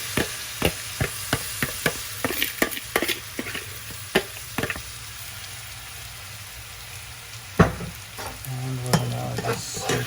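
Washed lentils go into a pot of frying meat for a lentil stew: a burst of clattering spoon taps and scraping stirs over a constant sizzle, then a quieter stretch of frying with a few more stirs near the end.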